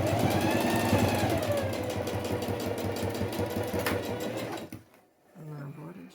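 Sewing machine running a closing seam along the edge of a fabric box pouch, a rapid, steady mechanical chatter that stops near the end, followed by a brief voice.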